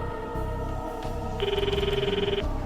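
A phone call ringing tone in the video game Steins;Gate 0 enters over background music, one steady warbling ring burst of about a second, clear and fairly loud.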